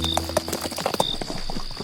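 Tied horses' hooves clip-clop in a quick, uneven patter close by, with a faint ringing tone running through the background and no talking.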